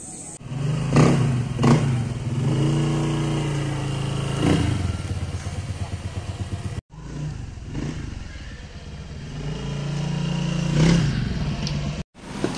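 A lowered Honda Click V3 motor scooter engine hums and revs as it rides along, with clunks and rattles where the wheels bump over speed humps, cutting out briefly twice.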